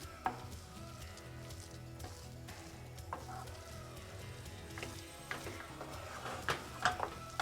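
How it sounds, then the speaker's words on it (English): Navy bean patty ingredients being mixed in a pan with the heat off, heard as quiet, irregular stirring and scraping of a utensil with soft clinks and a faint lingering sizzle. "Just mix it very well together."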